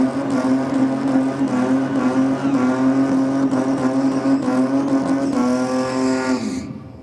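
Two silver Ford Falcons, a sedan and a ute, launch side by side at a no-prep drag strip, a loud sustained engine roar holding a steady pitch before rising and cutting off near the end.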